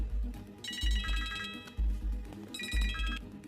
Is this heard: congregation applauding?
no